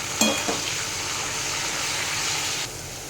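Chopped capsicum fries in a pan with salt and turmeric, giving a steady, broad, close sizzle that runs throughout after a couple of clanks at the start and drops in level near the end, with no talking.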